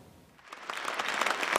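Applause from a party caucus meeting room greeting emergency committee chairman Kim Chong-in, starting faint and swelling into brisk, continuous clapping.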